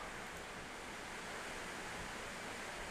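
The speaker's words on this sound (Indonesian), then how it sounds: "Hujannya deras banget guys kalau misal masuk ke mic, maaf ya" Heavy rain pouring steadily, a dense unbroken hiss with no gaps or talk across the whole stretch, loud and close as if right near the microphone.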